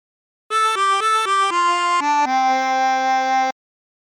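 Harmonica playing the phrase of For He's a Jolly Good Fellow: a run of clear sustained notes stepping through the melody, the last held longest, loud and close with no talk.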